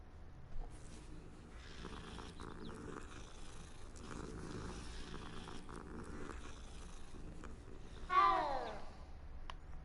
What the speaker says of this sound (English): Let me pet the cat.